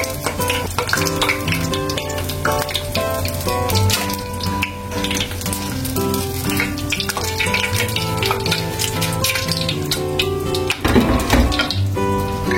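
Dumplings frying in hot oil for mie goreng pangsit, a steady crackling sizzle that runs loud and continuous throughout, with some clattering and a brief surge of bubbling near the end.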